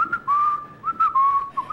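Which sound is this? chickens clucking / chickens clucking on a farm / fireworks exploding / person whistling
person whistling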